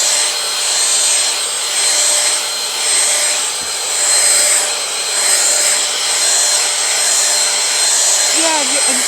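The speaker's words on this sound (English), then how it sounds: "This is the perfect vacuum cleaner you could use for your car." A Dirt Devil Platinum Force handheld car vacuum cleaner runs steadily and loudly throughout, a continuous whining motor hum with slight surges as it moves, with a brief higher squeal near the end.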